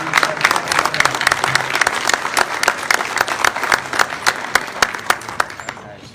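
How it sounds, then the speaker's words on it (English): An audience at a county mayoral candidate forum breaks into a round of applause, with dense, steady clapping from many hands close by that fades toward the end, and a few voices mixed in. "Big round of applause."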